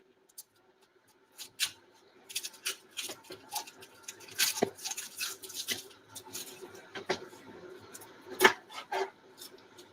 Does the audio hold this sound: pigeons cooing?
no